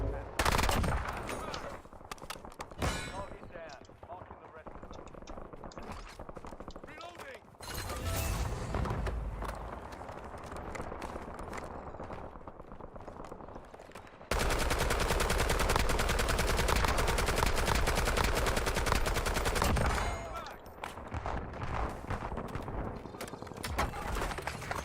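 Enemy gunfire in the video game Warzone, with loud sustained bursts and rattling automatic fire that ebb and return across the stretch, mixed with game noise and some voice.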